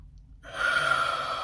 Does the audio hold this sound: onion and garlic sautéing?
no